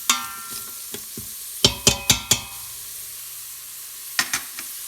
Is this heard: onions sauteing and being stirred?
yes